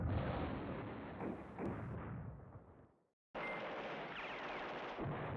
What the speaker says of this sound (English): Counter battery fire that artillery battalion.